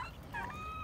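A domestic, home-raised turkey gives a short, quick gobble, close and fairly faint, lasting under a second.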